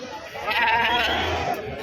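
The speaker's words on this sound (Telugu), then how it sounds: "పెద్ద సైజు మేకలు" Large goats bleat at a goat market in a wavering, drawn-out cry over a noisy outdoor background, fairly close and moderately loud.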